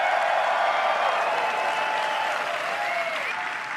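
Audience applause and cheering fill a large hall at the WWDC 2019 conference, a dense, steady roar of clapping that stays loud throughout and carries a few faint whistles, with no speech over it.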